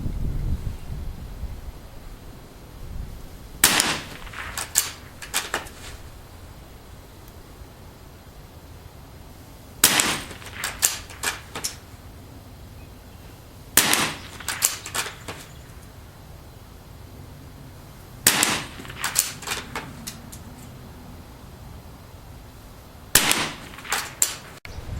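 A Mossberg & Sons 46M bolt-action rifle fires Aguila subsonic 60 grain rounds outdoors, five sharp reports spaced several seconds apart, each followed by faint clicks of bolt cycling, with wind noise in between and no talking.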